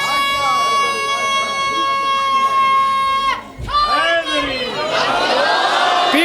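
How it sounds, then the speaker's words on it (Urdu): At a Rajab celebration gathering in Dera Ghazi Khan, a man's sustained sung or spoken line is answered by a loud crowd roaring a slogan in unison, with voices swelling together. "پیچھے سے بھی ایک نعرہ"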